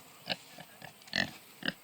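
Kunekune pigs on grass pasture give several short, soft grunts, spaced irregularly over a couple of seconds, close by and fairly quiet.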